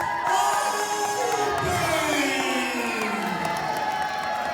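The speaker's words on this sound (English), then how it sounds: "Listen to that response from the Pro Wrestling 225 family here in the LM Lockhart in Denham Springs" A wrestling crowd at the LM Lockhart in Denham Springs roars, whoops and yells continuously as the reigning tag team champions make their entrance, with a loud, dense wall of cheering throughout.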